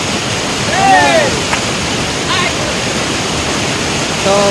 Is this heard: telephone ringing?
no